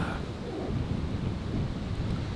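Strong wind roars and rushes continuously, with a low rumbling buffeting, like gusts through treetops.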